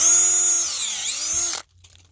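A power drill bores into wood with a maple drill bit, a loud steady high whine with a dipping pitch for about a second and a half before cutting off abruptly into near silence.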